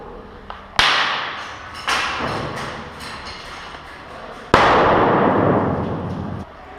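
Airsoft grenades go off during an outdoor night milsim game: a few sharp, fairly close bangs spaced seconds apart, each trailing into a rough, noisy decay, with no talking.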